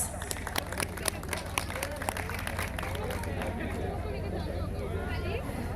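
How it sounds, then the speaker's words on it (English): Applause and cheering from an audience at an institute event at NIT Manipur, a dense wash of clapping and crowd hubbub that stays loud and steady throughout. "please give a huge round of applause"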